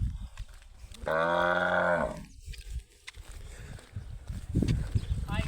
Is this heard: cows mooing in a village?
yes